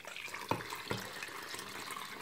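Water poured into sugar in a pot for Turkish sour cherry jam, a faint steady liquid trickle with a couple of brief splashy bursts near the start.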